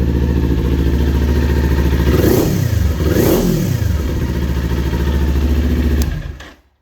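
A 2020 Kawasaki Ninja 400 sport bike engine runs loud and close, rising through two distinct revs above a buzzing idle before cutting off abruptly at the end.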